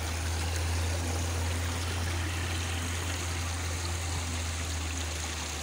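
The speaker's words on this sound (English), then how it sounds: "Water coming down the rocks." Stream water flowing down rocks along a hiking trail, a steady close rushing and trickling wash holding even loudness throughout with no talk.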